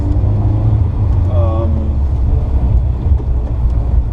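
A 1965 Volvo 1800S engine runs through a stainless steel exhaust with a cherry bomb glass pack muffler, a loud, steady low rumble throughout, with a voice briefly heard over it.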